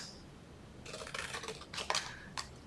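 Scissors snip paper for a toothbrush box, several crisp close cuts in quick succession and then a final sharp snip.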